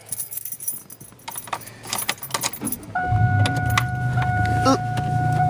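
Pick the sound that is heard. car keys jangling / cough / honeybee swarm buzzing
car keys jangling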